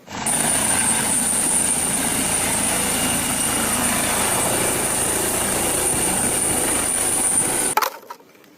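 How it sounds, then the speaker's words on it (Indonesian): A toy helicopter being played with indoors gives a continuous high-pitched whirring buzz, steady and close for about seven seconds before cutting off abruptly. "yang ini ternyata helikopter"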